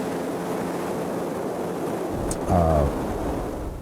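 Steady roar of a GlaStar floatplane's engine over rushing water and wind as it accelerates across the surface and comes up on the step, with a brief louder tonal surge near the end.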